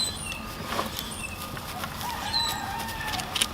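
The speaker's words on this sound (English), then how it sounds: "Bit of rooster noise." A rooster crows in the distance over a low outdoor hum, with faint bird calls and scattered clucks around it.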